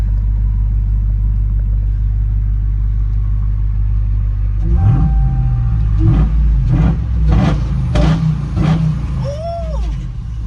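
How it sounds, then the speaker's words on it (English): A Ram TRX pickup truck with a new intake idles with a deep rumble, then revs sharply several times in quick bursts, loud and close. "Let's give it a little couple revs."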